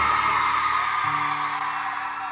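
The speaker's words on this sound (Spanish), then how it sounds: "es el mayor grito que hemos escuchado aquí" A theater crowd at a live concert in Salta's Teatro Provincial roars with sustained screaming and cheering, a loud, dense wall of voices that fades slightly toward the end.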